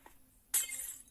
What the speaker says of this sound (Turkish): kırılan camlar var